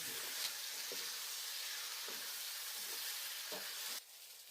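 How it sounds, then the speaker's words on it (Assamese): Meat stir-frying in a pan on a home stove: a continuous sizzle with occasional scraping stirs, close and moderately loud, dropping off abruptly near the end. "এতিয়া মই ইয়াত মাংসখিনি দি ভালদৰে লৰাই দিম।"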